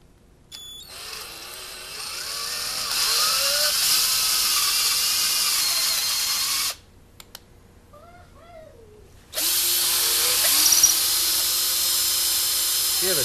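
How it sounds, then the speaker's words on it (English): A hand drill bores a hole in guitar hanger hardware: a steady high-pitched whine runs several seconds, cuts out briefly, then resumes at full strength, close and loud with no talk over it. "I'm going to drill the main hole first."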